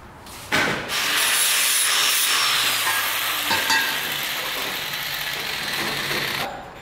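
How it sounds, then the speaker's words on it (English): An angle grinder cleans up welded roll cage bars for a Ford Explorer or Jeep XJ, a loud close sustained whining grind that starts abruptly, runs steadily for about six seconds with a slight dip in pitch, then cuts off. "Now we just need to clean it up with the grinder."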